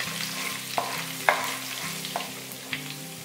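Whole spices sizzle and crackle in hot desi ghee for Amritsari dal tadka, a steady frying hiss broken by occasional scrapes of a spoon stirring the pan.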